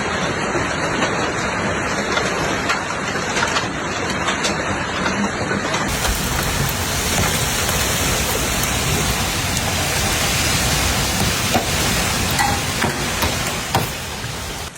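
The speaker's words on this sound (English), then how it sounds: "heavy rain accompanied by hailstones began to pound roads, rooftops, vehicles, and gardens" Heavy rain with hailstones in a hailstorm over Brescia and Verona, Italy, a dense continuous hiss of downpour with scattered sharp hard impacts tapping throughout, loud and close.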